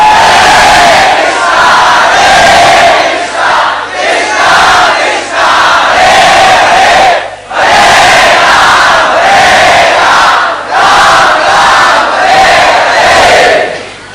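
Temple congregation at an ISKCON Sunday feast in Chowpatty chanting loudly in unison, a dense, roaring crowd of voices in sustained waves with brief dips between phrases.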